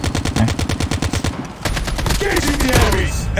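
An AK rifle fires in Call of Duty Mobile, a fast rhythmic burst of close, loud shots, followed by denser continuous firing and a muffled voice underneath.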